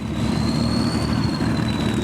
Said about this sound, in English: Now I can hear another V8 engine growling and rumbling away somewhere behind me.